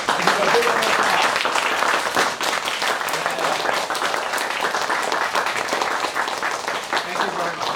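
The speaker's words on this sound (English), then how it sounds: "And give her a big round of applause." An audience gives a standing round of applause for a woman named Alice, sustained dense clapping from a crowd that continues for several seconds, with voices mixed in underneath.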